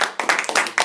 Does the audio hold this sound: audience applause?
yes